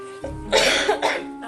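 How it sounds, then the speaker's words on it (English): A person coughs twice in close succession, harsh and nearby, with a bit of throat clearing. "If you hear me coughing or whatever"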